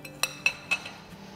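Spices and lemon being mixed in a bowl: three quick, bright clinks of utensil against bowl, close and fairly quiet, then a soft scrape.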